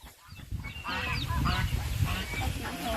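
Farmyard chickens in rural Thailand cluck and squawk in an overlapping flock chorus, moderately close and continuous after a brief quiet start.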